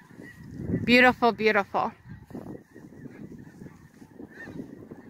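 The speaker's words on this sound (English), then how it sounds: "Hear geese overhead?" Geese honk overhead above open prairie on a morning walk, a brief close burst of calls near the start, then fainter honks trailing off, with a person speaking softly among them.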